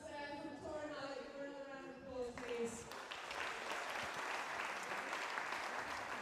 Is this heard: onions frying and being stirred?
no